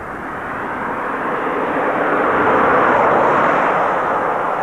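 A Honda FCX fuel cell car pulls away under acceleration, giving a broad, steady rushing roar that swells gradually and stays loud and continuous, with no talking.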